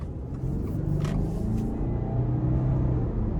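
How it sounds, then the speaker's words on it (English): A 2022 Subaru Outback Wilderness with a 2.4-litre turbo engine pulls under boost, a steady low rumble and drone heard from inside the cabin, with faint hiss above it. "The turbo boost."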